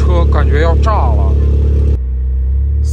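A damaged car engine runs loudly and roughly in a continuous heavy drone, with someone talking over it for the first two seconds before the engine noise carries on alone.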